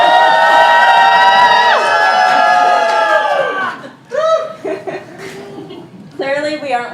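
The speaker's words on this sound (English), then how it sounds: "Everybody scream!" A crowd shouts and screams together in sustained loud voices, then breaks into scattered cheers, laughter and excited calls.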